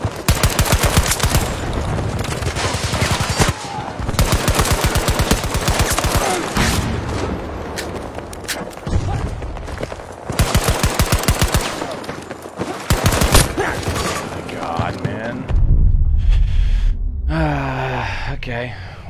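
Rapid gunfire and heavy explosions from a Battlefield 2042 match on PS5, with dense bursts of automatic fire rolling almost continuously, loud and close, and a deep blast near the end, mixed with talk.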